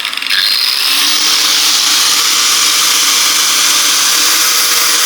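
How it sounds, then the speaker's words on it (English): An angle grinder runs steadily at high speed while polishing a hedge trimmer blade with a disc, a loud continuous whine and hiss that rises in at the start and holds throughout without talk. "So fire that grinder up, Lukey."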